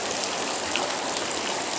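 Heavy rain falls steadily as a dense, even hiss, loud and continuous with no breaks and no voices.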